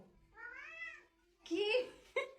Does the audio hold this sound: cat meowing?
yes